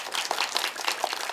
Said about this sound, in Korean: 멀리서 와주신 우리 세 분 감독님과 그리고 두 분 출연진님께 뜨거운 박수 부탁드리겠습니다